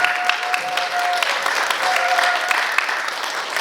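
Steady audience applause at an arts awards ceremony in a small theatre hall; loud, continuous clapping from many hands, even in level throughout, with a faint voice or tone underneath.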